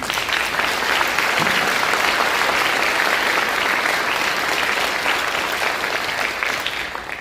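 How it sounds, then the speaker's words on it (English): An audience at a school grades 5–12 band finale concert claps in a full, sustained round of applause that stays loud throughout and tapers slightly at the end. "Can we give them a round of applause, please?"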